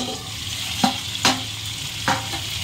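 A spatula stirs chicken in a spiced kadai, three or four sharp scraping strokes at uneven intervals over a gentle, continuous sizzle, close and moderately quiet.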